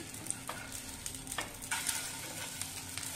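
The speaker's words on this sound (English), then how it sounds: "So now first we'll fry it out till it's golden brown on one side" Potato chops frying in a pan for a Goan Christmas dish, a soft steady sizzle with a few light clicks and scrapes, fairly quiet and heard alone.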